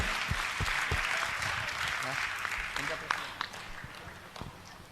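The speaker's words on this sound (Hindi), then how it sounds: "एक बार जोरदार ताली बजा दीजिए उसके अध्यक्ष" An audience at a religious gathering claps for the president of a nine-day pilgrimage walking group of about 170 pilgrims, with quiet, uneven clapping fading in and out under someone speaking.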